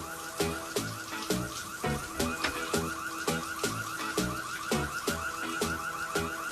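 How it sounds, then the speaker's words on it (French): An electronic alarm blares from a house, a loud, fast-repeating pulsing tone in a steady rhythm that runs throughout, with no voices over it. "cette alarme vient de la maison de la sirène"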